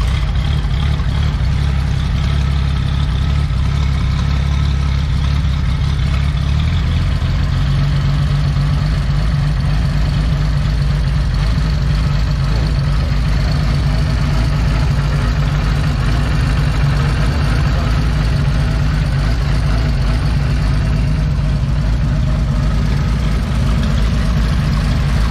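A vintage motorcycle engine runs loud and close, a rough low rumble that settles after several seconds into a steady throbbing idle that lasts to the end, with no talking.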